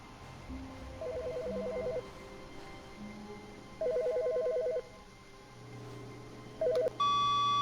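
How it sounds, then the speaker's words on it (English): A phone rings in repeated electronic bursts with pauses between them in the video game The Stanley Parable: Ultra Deluxe, the last short trill giving way to a steady beeping tone. "Hear your phone ringing."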